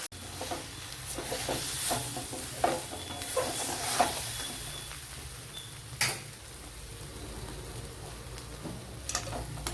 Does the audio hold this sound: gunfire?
no